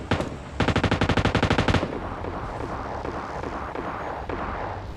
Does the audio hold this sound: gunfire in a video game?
yes